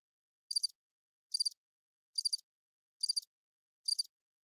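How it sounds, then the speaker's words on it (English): Crickets chirp in five short, evenly spaced bursts, each a quick high trill separated by silence, clear and isolated. "Crickets."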